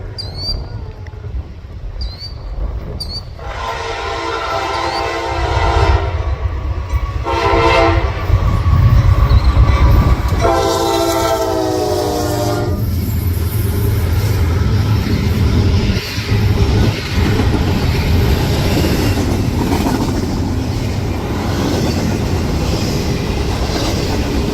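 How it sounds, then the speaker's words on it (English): Norfolk Southern train NS 265 led by locomotive NS 4004 passing close by, with several loud horn blasts over a rumbling engine and rolling wheel clatter that keeps on steadily. "The next day, NS 4004 came back leading on NS 265, so I went out for it again and caught it at the same spot."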